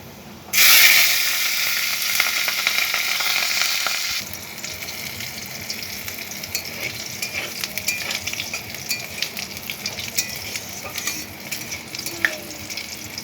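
Panch phoron spices and chopped green chili drop into hot oil with a sudden loud sizzle that eases into a steady frying hiss, accompanied by occasional stirring scrapes.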